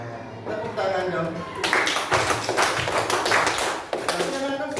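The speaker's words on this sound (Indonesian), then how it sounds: "Tepuk tangan dong." Children in a classroom burst into a short round of quick, dense clapping, loud and close, lasting a few seconds with voices in the background.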